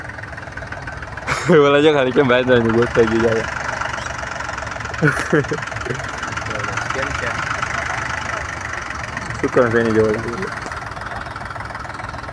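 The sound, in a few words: tractor engine idling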